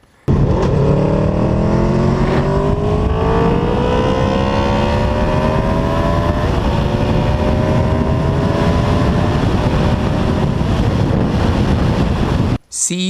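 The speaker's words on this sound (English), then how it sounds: "So this is an 8-inch shorty Delcovic exhaust bolted right up. Sounds mean." A 2015 Honda VFR800 Interceptor fitted with an 8-inch shorty Delkevic exhaust revs loudly through rising engine sweeps, with heavy wind buffeting throughout as the bike rides, ending abruptly.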